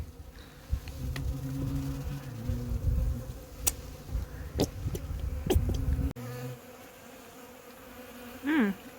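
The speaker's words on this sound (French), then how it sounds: "Dîner en compagnie des abeilles." Many bees hum and drone steadily nearby at beehives. Several bees zip close past the microphone, and one louder buzz rises near the end.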